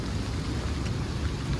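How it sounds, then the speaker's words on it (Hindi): Steady rain pours on the mountain trail of the Manimahesh pilgrimage, a dense, even hiss with a low rumble underneath, close and constant throughout, with no voices. "कल सुबह से ही बारिश हो रही है"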